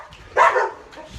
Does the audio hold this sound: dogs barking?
yes